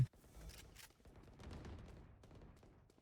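Gunfire from crouch-spraying in Valorant, a quiet rapid run of shots after one sharp opening crack, with small gaps and irregular bursts, and no talk.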